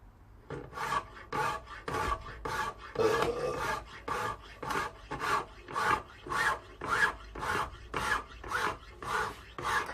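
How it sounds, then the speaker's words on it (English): A metal file pushed and scraped along a Bowie knife blade in steady forward strokes, about fourteen rasping passes in an even rhythm, close and clear with no talk. "it's just a case of pushing the file forwards, giving it a right good scrape"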